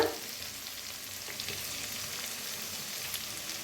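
Onion and tomato frying in a roasted spice masala, a soft steady sizzle and crackle heard close but fairly quiet, with no voices.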